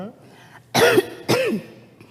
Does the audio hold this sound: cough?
yes